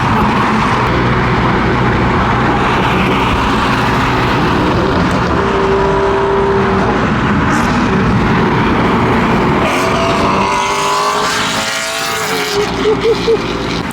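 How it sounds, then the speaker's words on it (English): A group of cars pulls in together at a gas stop, loud continuous engine roar and tire noise close by, with engines settling lower toward the end. "I think all the cars just came"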